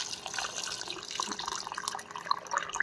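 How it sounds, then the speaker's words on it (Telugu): Water runs and splashes softly into a bowl of cut potato pieces, a faint, steady trickle with a few small drip-like plinks near the end. "వాటర్ వేసుకోవాలి"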